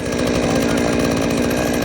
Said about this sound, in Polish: Po tym etapie pilarka powinna odpalić bez problemu.